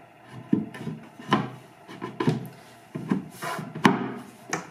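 A wooden storage cabinet's top panel is pressed onto cam bolts and dowels, giving a close series of about six dull wooden knocks and rubbing scrapes in an uneven rhythm, with no talk.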